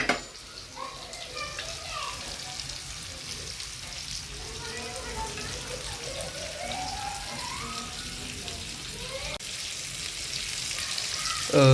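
Bombay duck (bombil) fish fry in oil in a pan, giving a steady, soft, watery sizzle under a voice speaking.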